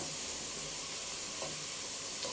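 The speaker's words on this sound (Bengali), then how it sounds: "এবার আমি পেঁয়াজটা ভেজে নিব পেঁয়াজটা বেরেস্তা বানিয়ে নিচ্ছি আমি" Onions frying in oil to make crispy birista, a steady close sizzling hiss with occasional light stirring sounds.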